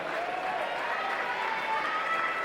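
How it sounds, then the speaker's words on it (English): Audience applause for swimmer Quinton Hurley at the 2019 Aon National Age Groups Championship finals session: a dense, steady wash of clapping from a crowd, holding at an even level throughout with no pauses. "Give a big round of applause for Quinton Hurley"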